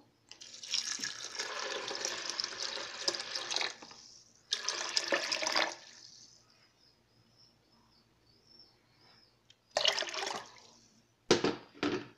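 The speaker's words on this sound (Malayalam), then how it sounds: "ഇതിലോട്ട് ഇനി അല്പം വെള്ളം ചേർക്കാം." Water pours into soaked rice ready for grinding in a kitchen, in several splashing bursts separated by quiet gaps, close and moderately loud.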